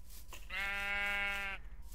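A single clear sheep bleat from the video game Minecraft, a bright, nasal, buzzy tone lasting about a second over quiet background noise.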